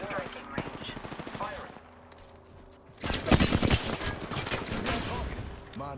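Enemy gunfire in Apex Legends, a burst of rapid shots erupting loud and dense in the second half, with in-game voice lines and game sounds beforehand.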